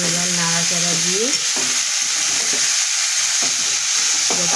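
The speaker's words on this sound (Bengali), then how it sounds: "যতক্ষণ পর্যন্ত এই ফ্যাক আওয়াজটা না যাবে ততক্ষণ থোড়টা চাপা দিয়ে দিয়ে ভাজা করতে হবে" Sliced banana stem (thor) fries with onion in a pan, giving a loud, steady sizzle throughout while it is stirred and pressed, with scraping and turning noises from the stirring.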